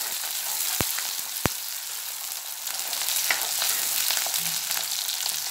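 Ginger, green chili and garlic sautéing in hot oil for tuna pickle make a loud, steady hissing sizzle, with two sharp clicks near the start and faint scraping as the pan is stirred.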